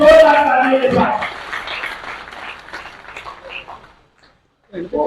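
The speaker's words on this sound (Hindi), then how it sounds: "देश का जोरदार तालियों को जाके जोरदार तालियों के साथ" Loud applause rises from an audience at a BJP Lok Sabha cluster meeting, dense clapping at first that thins and fades to near silence, with a voice returning at the end.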